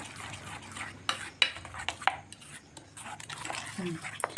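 Chop batter being mixed by hand in a bowl after hot oil is added, giving soft, uneven stirring and scraping sounds with a few light clinks, close and quiet, with faint background noise.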